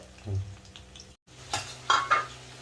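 Broad beans fry in a pan, with a few quick spatula scrapes and stirring clatters rising above a low background sizzle, close by and without talk.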